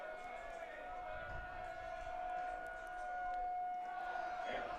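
A city siren holds a steady wail across a high school baseball game between the Fayetteville Bulldogs and Bryant Hornets in the Arkansas 6A state tournament, sounding continuously at moderate distance while crowd noise and commentary stay low beneath it.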